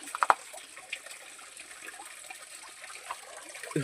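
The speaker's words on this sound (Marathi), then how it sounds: "ते खडपातून पाणी येतं हे इकडून वरून येतं" A thin, steady trickle of water runs down from rock throughout, faint and close, with a few small splashy accents near the start.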